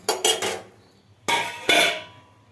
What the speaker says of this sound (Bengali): এবার কড়াই বসিয়ে দিয়েছি